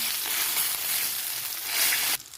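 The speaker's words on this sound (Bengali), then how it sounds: "মাছটা ভাজিয়ে নিয়েছি হালকা করে, এবার আমি এগুলোকে ভেঙে ভেঙে দেবো যাতে ভালো করে ভাজা হয়ে যায়।" Lightly fried fish pieces sizzle in hot oil in a pan, a loud, steady crackling hiss close by that cuts off abruptly near the end.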